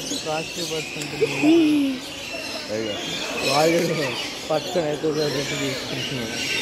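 Birds call and coo intermittently at moderate distance in a bird park at Ramoji Film City while a person talks over them, with a brief clear whistle-like call near the start.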